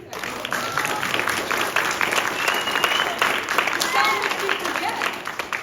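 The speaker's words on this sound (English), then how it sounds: "Please don't stop clapping." A theatre audience claps steadily and warmly after a Cinderella performance, a dense crackle of many hands filling the room, with a few voices calling out over it.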